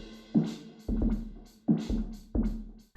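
Percussive hits run through Logic Pro Space Designer reverb with resonance at 60, four sharp attacks about every half to three-quarters of a second, each trailing a ringing, tonal tail with a steady resonant hum beneath.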